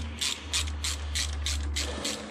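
A ratchet wrench tightens a nut on an engine mount of a BMW 1 Series, a run of about seven quick clicking pulls in an even rhythm, close, over a steady low hum.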